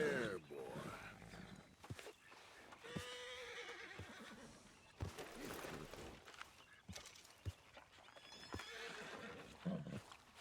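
A horse whinnies and neighs close by, with snorts and hoof clops, while someone talks calmly to the animal between the calls.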